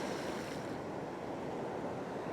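Ocean waves wash against a rocky headland in a continuous, broad roar of surf with no distinct breaks, steady and moderately loud throughout.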